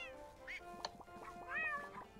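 A pet big cat in the video game Wobbly Life gives a few short, fairly quiet meows, with light game sounds and soft clicks around them.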